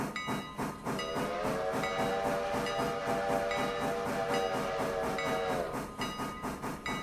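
A steam locomotive in the Railroader train simulator game chugs in a steady rhythmic exhaust beat with hissing steam, while a long steam whistle blows over it for several seconds, fairly quiet overall.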